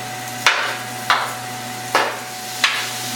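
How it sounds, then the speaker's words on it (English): Four sharp scraping chops against a pan at an even pace as sausage is broken up, with a soft sizzle of frying underneath. "I'm going to keep chopping this up and cooking it"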